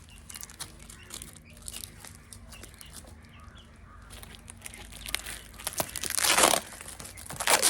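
Parcel packaging being torn open and crumpled by hand, with intermittent crinkling and ripping noises that build to a louder burst of tearing near the end.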